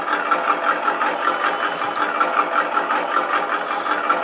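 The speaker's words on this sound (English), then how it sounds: "Touch the throttle a little bit, and it starts up. And this is the gas engine, okay?" Simulated gas engine idle from a model truck sound board on a bench test, a steady buzzing drone with a fast, even pulse running throughout, close and moderately loud with no other sounds.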